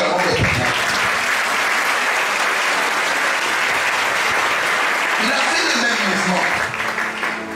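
Applause from a church congregation during a sermon fills the space with a dense, steady clapping that holds loudly throughout before easing slightly near the end.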